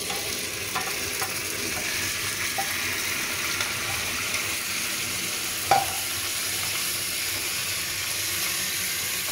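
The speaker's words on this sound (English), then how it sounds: "your tofu always have water, so when water goes into hot oil, you know that splashing may happen" Tofu fries in hot oil in a wok with a steady, dense sizzle and hiss, broken by a few sharp clicks of a utensil stirring against the pan, close and continuous with no voices.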